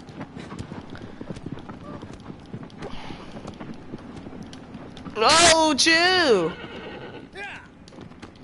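A horse in the video game Shadow of the Colossus lets out a loud neigh while its hooves clip-clop in a gallop, with a player talking over the game sound before and after.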